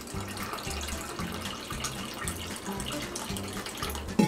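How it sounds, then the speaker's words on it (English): Cold spring water running from a sink tap into a measuring cup, a steady close splashing stream with a low rhythmic gurgle beneath, ending in a brief bump. "we're gonna fill the rest of the cup up with room temperature or cold spring water"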